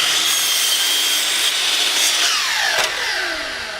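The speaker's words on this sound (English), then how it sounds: "there we cut the knot out" A wooden board having a knot cut out with a saw, making a loud, continuous, close-up rasping cut that holds steady and then eases slightly toward the end, with no voices.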